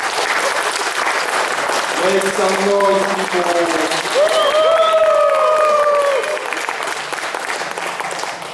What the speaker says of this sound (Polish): Oklaski prosimy.